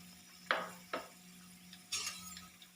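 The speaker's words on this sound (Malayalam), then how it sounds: "ഒന്ന് വഴറ്റി കൊടുക്കാം." Chana dal and urad dal sautéed in oil with mustard seeds, a few close spoon scrapes and clinks against the pan over a faint sizzle and steady low hum.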